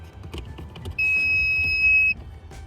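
A 2.0L Alfa Romeo Giulia in accessory mode gives off a single steady, high electronic beep lasting about a second as an OBD2 tuner is plugged into its port, over a low background hum.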